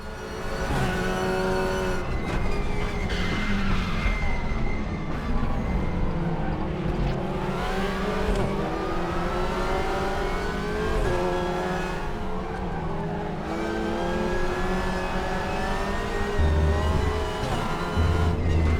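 A TCR touring race car engine in RaceRoom, a racing video game, drones loudly and continuously up close, its pitch climbing and dropping through repeated revs and gear changes with no pauses.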